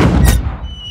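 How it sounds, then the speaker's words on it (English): A cartoon cannon fires a cannonball, a single loud booming blast with a sharp crack that decays over a second into a fading rumble and faint whistling tone. "Right, let's fire the cannon."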